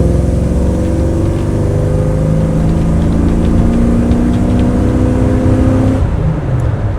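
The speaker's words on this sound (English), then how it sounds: "Another little pull there for you. Again, pull's great." A 1987 Chevrolet C10 Silverado with a 5.7 TBI V8 pulls hard on a test drive, its engine note rising steadily and loud for about six seconds before easing off.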